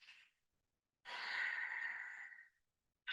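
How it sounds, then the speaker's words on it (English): One long, steady exhale through the nose during yoga breathing, close and soft. A brief breath comes just before it and another starts right after. "the next time you exhale, take that same engagement, but we'll exhale out the nose now"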